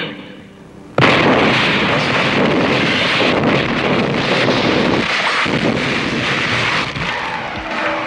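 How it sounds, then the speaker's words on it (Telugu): A sudden loud blast of a bomb explosion bursts in after a second of quiet, followed by a long roaring, rumbling wash of debris and wind. "అదే చోట యాంటోని బాంబు పెట్టాడు"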